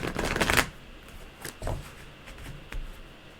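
Glossy, slightly thick cardstock tarot cards shuffled in a dense riffling burst, then a few softer separate shuffles and taps, close and clear with no talk.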